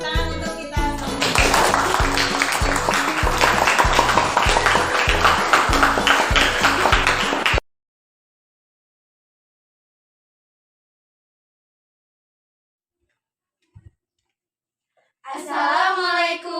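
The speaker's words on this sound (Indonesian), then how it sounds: "Tepuk tangan untuk kita semua" Students in a classroom clap together in a dense, rhythmic burst for several seconds with young voices mixed in, followed by silence and then a voice speaking.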